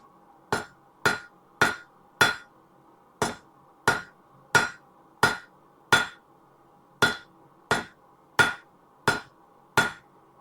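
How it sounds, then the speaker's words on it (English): Steady hammer blows strike the cold side of a metal animal sculpture, about fourteen sharp ringing impacts in a loose even rhythm, close and clear with no talking. "definitely having to hammer a little bit harder in order to get that movement we're looking for."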